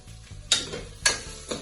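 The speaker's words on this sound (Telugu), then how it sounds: "మధ్య మధ్యలో ఆనియన్స్ ని ఇలా కదిలిస్తూ ఉంటే అవి ఎక్కువ మాడకుండా ఉంటాయి." Chopped onions sizzle while frying in a pan for palak biryani, with three sharp scraping stirs of a spoon at roughly half-second intervals over a steady low sizzle, close and alone.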